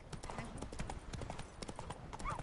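Roach, a horse in The Witcher 3, gallops with fast, steady clip-clopping hooves close by, with a brief whinny near the end.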